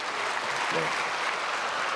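A church congregation applauding during a Sunday worship service, a dense, even roar of clapping from a large crowd that fills the whole stretch, with a voice faintly audible beneath.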